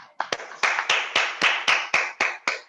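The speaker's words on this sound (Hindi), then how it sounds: "इस ग्रेट पर्सनालिटी को ग्रेट स्वागत और जोरदार तालियों से आपको अभिनंदन करता हूँ" A training-session audience welcoming a guest claps in unison, about nine loud, sharp claps in a steady, evenly spaced rhythm that sounds close and crisp.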